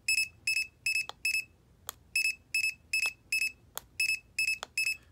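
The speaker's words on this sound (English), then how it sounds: "And this is the beeping." A remote dog training shock collar beeps in a steady series of short, sharp electronic tones, grouped in clusters with brief pauses between them, close and clear against a quiet background.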